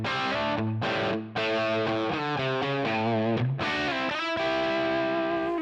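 Distorted electric guitar played through a Line 6 Helix Brit Plexi Bright amp model, with chords and single notes ringing out in a loud, continuous phrase with short breaks.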